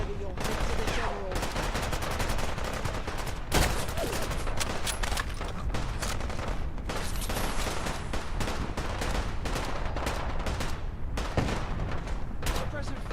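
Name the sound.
gunfire in the video game Fallout London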